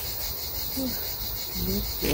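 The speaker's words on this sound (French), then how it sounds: "Là, on entend les cigales pour le moment." Steady high insect buzzing of cicadas fills the background throughout, fairly even and continuous, with a few faint low tones surfacing briefly midway.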